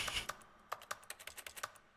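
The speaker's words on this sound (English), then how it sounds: "That's the sound of me panic clicking." Quick, irregular clicks from a computer mouse or keys tapped in a panic while playing The Stanley Parable Ultra Deluxe, about a dozen sharp near ticks in two seconds with no talking.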